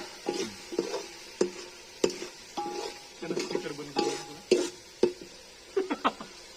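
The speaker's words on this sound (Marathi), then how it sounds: "याला पूर्ण असं तेल सुटेपर्यंत हलवत राहायचं" Chicken masala frying in oil for a chicken party, stirred in a pot: repeated sharp scraping clinks of a spoon against metal in an irregular rhythm over a soft sizzle, close and fairly loud.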